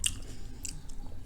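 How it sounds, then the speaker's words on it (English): Noodles with garlic sauce being chewed close to the mic, a few soft wet bites and crunchy clicks at a quiet level. "it's hot and chewy. That's cool and crunchy."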